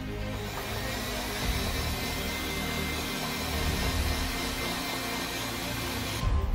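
A heat gun or hot-air tool heat-setting red paint on a discus-pattern fishing lure, a steady whooshing blower drone running close and unbroken throughout.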